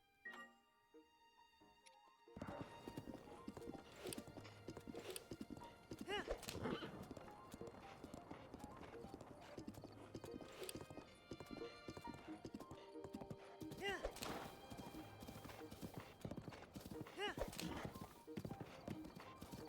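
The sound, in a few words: horse galloping in video game Breath of the Wild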